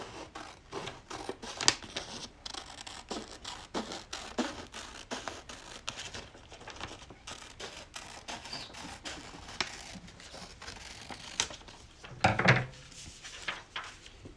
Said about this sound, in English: Then you're going to cut that piece in half along the crease.